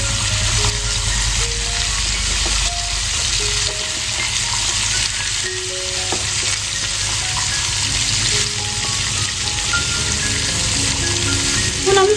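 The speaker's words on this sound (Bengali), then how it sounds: "সবজিগুলোকে হালকা করে ভেজে নিয়েছি" Beetroot and carrot with salt and turmeric fry in a pan, a loud, dense, continuous sizzle close up throughout, with faint musical tones beneath.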